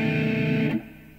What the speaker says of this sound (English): Here's the sound of a tritone.